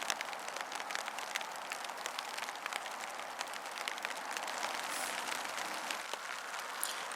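Steady rain patters on a 2Go Systems Trifecta bivy tarp, a dense, continuous hiss of drops tapping the fabric with no talk, holding constant throughout.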